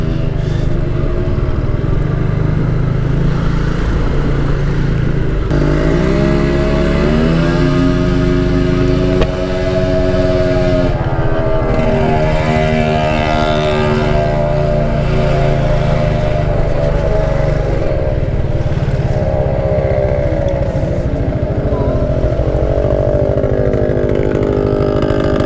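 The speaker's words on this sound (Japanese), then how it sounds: "後ろのうるさいバイクどうにかして。" A loud motorcycle engine droning behind the rider in busy Osaka traffic, a steady close rumble with rising and falling revs throughout, wind noise over the top and no talking.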